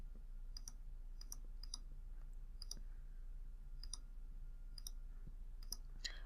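Crisp, faint computer mouse clicks tap out one at a time at irregular intervals, roughly a dozen in all, over a quiet room hum with no talk.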